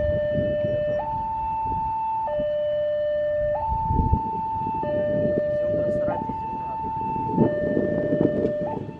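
The Jayabaya passenger train sounds its horn at Babat station in a loud, steady two-tone pattern that alternates high and low for several cycles, with rumbling rail noise beneath.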